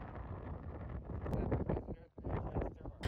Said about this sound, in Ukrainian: Але перше, що ви відчуєте, це сильний вітер